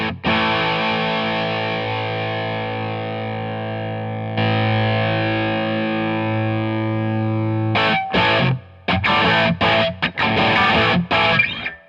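Electric guitar driven through a Wampler Moxie overdrive pedal with its fat switch engaged: long, thick sustained chords ring loudly, then give way to choppy, rhythmic riffing with short gaps, with no voices.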